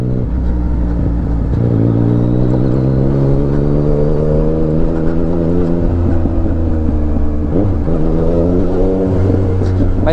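A 2023 Yamaha Tracer 900 GT with a remapped engine rides along a city street, its three-cylinder drone loud and close, rising and falling in pitch as the throttle opens and eases.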